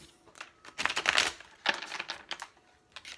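Tarot cards being shuffled by hand make quick, close papery riffles and slaps in a couple of short flurries, with soft pauses between them.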